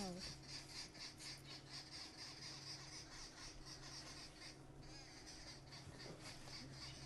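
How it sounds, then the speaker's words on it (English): Babblers calling on a safari drive in the African bush, a noisy, repeated chatter, a rapid series of harsh chirps from a few birds at middle distance with faint insect hum beneath. "The little birds you can hear are the babblers"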